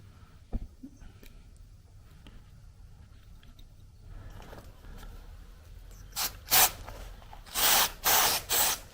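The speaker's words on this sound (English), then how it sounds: "we've got to spray the gripper, and we're going to spray the back end of the carpet" Several loud hissing bursts of spray adhesive onto carpet gripper and the back of a sisal carpet in quick succession, preceded by faint handling noises and light scraping.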